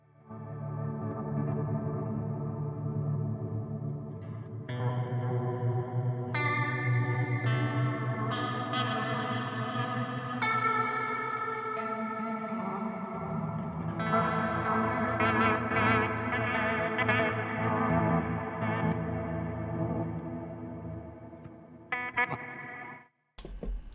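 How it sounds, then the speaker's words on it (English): Guitar chords swell through a Meris LVX pedal with heavy reverb and repeats, a dense shimmering wash of layered, echoing tones that builds and shifts for most of the stretch before cutting off abruptly near the end. "and then really ramp up the reverb"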